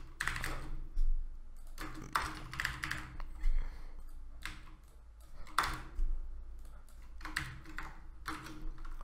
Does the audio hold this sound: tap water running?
no